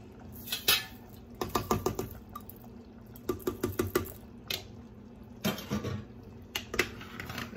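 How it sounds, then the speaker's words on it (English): A spoon stirs Puerto Rican rice with pigeon peas in a cooking pot, making close, clinking scrapes in quick bursts of several strokes with short pauses between, and no one talking. "I'm gonna stir it real well."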